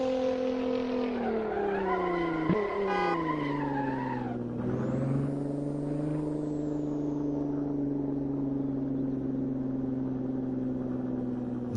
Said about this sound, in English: Let y'all hear that exhaust.